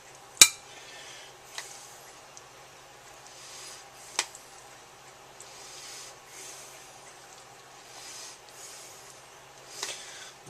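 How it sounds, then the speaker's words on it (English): Quiet clinks of metal tongs against a plate while serving noodles, a few sharp taps spaced apart amid soft rustling and faint background hum. "You're going to want some tongs for the noodles."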